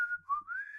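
A person whistles a short, sliding note that dips then rises, fairly faint and alone.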